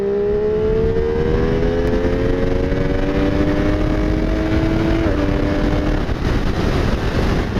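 A 2015 MV Agusta F3 800 motorcycle pulling hard in third gear, its engine note rising steadily in pitch under loud wind rush, then a brief dip as the revs shift near the end, close and continuous.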